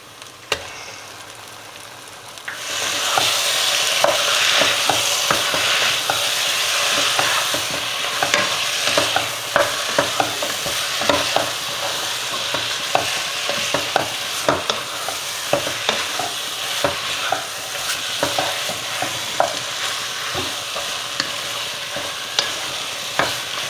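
Chicken pieces sautéing over medium heat in a pan for chicken dum biryani, a steady loud sizzle with frequent scraping and stirring clicks that starts quieter and swells after a few seconds, no talking.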